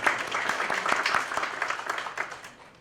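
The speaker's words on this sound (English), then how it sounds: "So Round of applause for her." Audience applause at a school oratorical contest, a room of people clapping at a steady pace, moderately loud and fading toward the end.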